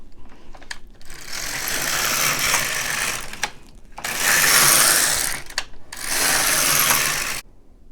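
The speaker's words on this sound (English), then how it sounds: "now I'm just going to go up to row 30" An LK 150 / KX 350 knitting machine carriage is pushed back and forth across the needle bed knitting rows, three long loud whirring, ratcheting passes separated by short pauses with soft clicks.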